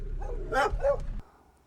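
A couple of dogs barking nearby in a rural plantation area, a quick burst of several sharp yips and barks, then a sudden cut to near silence.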